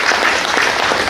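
Audience at an evening journalism awards event applauding, a dense, loud burst of clapping from many hands, brief and without talk.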